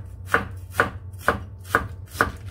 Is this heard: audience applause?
no